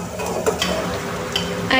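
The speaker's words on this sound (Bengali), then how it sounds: "টমেটোটা দিয়ে আবার কিছুক্ষণ নাড়িয়ে তারপর ঢাকা দিয়ে দেবো।" Tomatoes being stirred into curry in a pan, a continuous close sizzle with faint scraping stirs over it, loud and alone.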